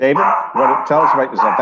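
A pet dog barks close by in a home studio, three or four sharp, loud barks in quick rhythm while someone speaks over them.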